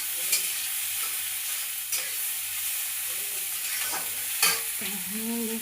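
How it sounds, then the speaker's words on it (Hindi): Chopped onions fry in hot oil in a kadhai for rolled dosa, giving a steady soft sizzle with a few sharp stirring scrapes and clatters of the spoon against the pan. "तेल डाल दिए हैं और डाल रहे हैं प्याज। इसको हम करेंगे फ्राई।"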